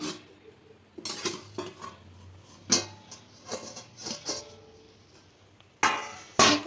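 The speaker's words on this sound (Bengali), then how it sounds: "এবার ঢাকাটা খুলে নেবো" A cooking pot of hilsa biryani on low heat: scattered metallic clanks and clinks of the lid and utensils against the pot, close by, with quiet gaps and a couple of sharper knocks near the end.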